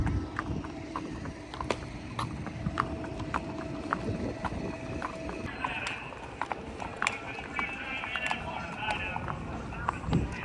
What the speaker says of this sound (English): this is why it takes a long time to make a seasoned rodeo horse, because you know this is your walk to the arena